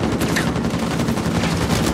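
Grenade launcher fire from the China Lake weapon in Uncharted 4 multiplayer, heard as a dense stretch of loud explosive gunfire and bursts across the whole moment.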